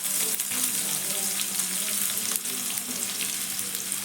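Chopped onion hitting hot oil with cumin in a pan, a dense continuous frying sizzle heard close and loud, with faint stirring touches throughout.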